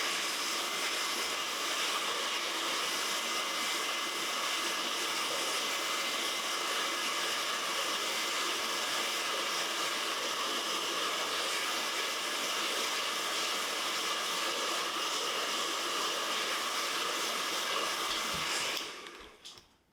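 Heat gun blowing hot air onto a printed skin: a loud, steady, close whoosh of airflow that holds constant for about nineteen seconds, then cuts off.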